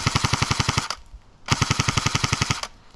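Airsoft rifle firing on full auto at about five rounds per second, two loud rapid bursts of evenly spaced shots separated by a brief pause, with no voices.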